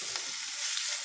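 Chopped onion frying briefly in a pan, a soft, even hiss of sizzling, close and unbroken for about a second.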